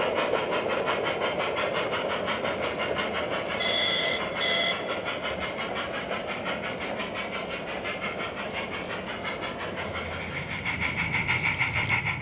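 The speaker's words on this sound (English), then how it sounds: "signal the train's departure, to make its way across the swing bridge and onwards up the line" A light railway train departs across a swing bridge at Peckforton Light Railway, giving a steady mechanical rumble and whine with a whistle-like tone midway, close and continuous, with no talking.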